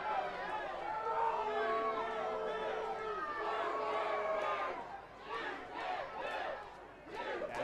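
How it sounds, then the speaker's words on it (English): A rowdy crowd at a minor-league baseball game in West Virginia yells and jeers in steady overlapping voices, a loud mass of shouting that eases and surges toward the end. "This crowd is really rowdy here in West Virginia."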